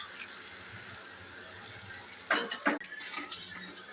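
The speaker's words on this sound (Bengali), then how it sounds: "দই দিয়ে নাড়াচ্ছি।" A spoon stirs prawns in yogurt in a pan. A quiet low sizzle runs beneath, then a short burst of scraping and clinking strokes comes up clearly near the end before fading back down.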